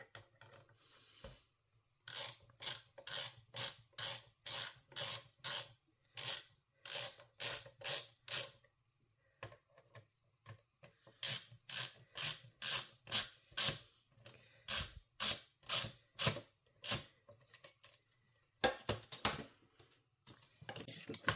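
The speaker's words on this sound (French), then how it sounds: "Il faut dévisser cette vis-là. Et on pourra, je pense, enlever le disque dur." A screwdriver backing out a screw holding a PC hard drive in its bay, giving close, quiet bursts of rapid ratcheting clicks in repeated runs with short pauses between turns.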